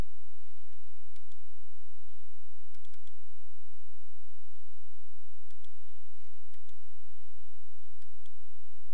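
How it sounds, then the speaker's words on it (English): Faint computer mouse clicks in a quiet room while browsing for a file to attach for an assignment submission: about a dozen short, sharp ticks spread unevenly across the span, some in quick pairs, with no talking. "Click on Attachments and then browse your computer for your completed work."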